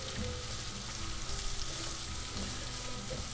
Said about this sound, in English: I'm gonna get all this sauteing